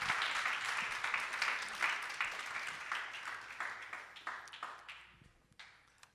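A church congregation gives sustained applause that fades out gradually, dense clapping heard at a moderate distance without speech.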